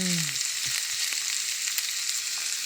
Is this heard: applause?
no